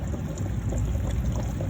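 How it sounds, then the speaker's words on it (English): Water boils in a pot while beeswax melts down, a steady low bubbling rumble with a constant faint hiss, continuous and close, with no talk over it. "you can kind of hear the water boiling in there"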